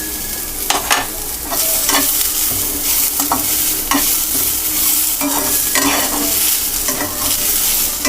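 Sodukku tomatoes with curry leaves and onion sauté in a pan, a loud steady sizzle marked by repeated scraping strokes of a spatula roughly every second.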